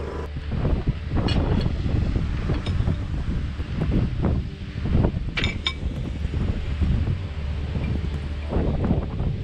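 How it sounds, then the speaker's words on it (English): Strong wind on a beach on Naxos roars and gusts steadily across the microphone in a low, buffeting rumble, with occasional faint clinks and knocks underneath. "It's too windy to sail today"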